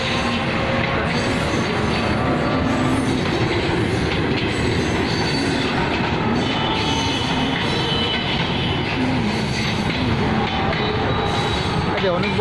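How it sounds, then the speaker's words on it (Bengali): A long train rolls past close beside a road, its heavy rumble and rattling wagons loud and continuous, with wheel squeal and steady clatter throughout. "ট্রেনের সাথে প্রতিযোগিতায় আছি।"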